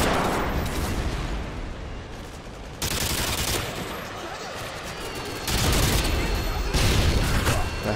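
An enemy Harrier jet firing in Modern Warfare 2: a loud, sustained roar of rapid gunfire and jet noise in dense waves, swelling in several surges, with talk barely present underneath.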